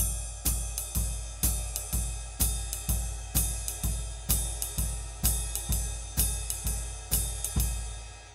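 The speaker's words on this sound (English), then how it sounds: "add quarter notes in the bass drum to that" A drum kit plays a steady jazz shuffle, with a bass drum thumping evenly on each quarter note under regular cymbal and snare strokes, close and clear with no talking.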